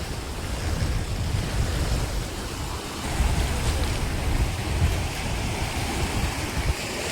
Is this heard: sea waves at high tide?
yes